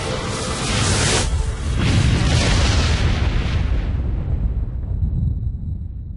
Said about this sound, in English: Hitting the relay in 3, 2, 1.